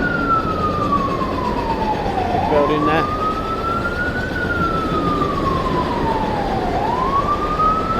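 An emergency vehicle siren wails on a New York City street, with slow rising and falling sweeps over steady traffic hum, moderately distant, as a voice speaks briefly.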